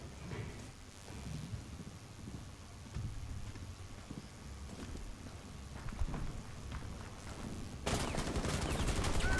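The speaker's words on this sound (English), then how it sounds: "They're shooting through the window in the weed room." Gunfire in Rainbow Six Siege on the Favela map, with scattered muffled shots crackling at a distance before a loud, dense burst of fire breaks out near the end.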